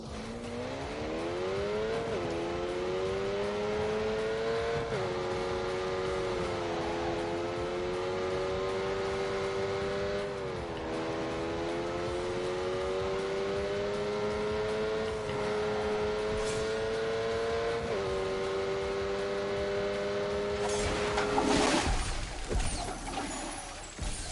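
A race car engine in The Grand Tour video game revs and holds a steady, rising-and-falling whine for most of the stretch, shifting pitch at each gear change, then ends in a sudden burst of noise near the close.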